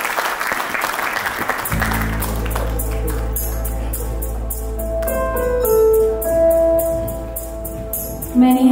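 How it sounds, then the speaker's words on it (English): Guests at a 90th birthday dinner banquet applaud the sister, a sustained round of clapping under a tonal musical backdrop that holds steady and swells near the end. "Please give a big round of applause"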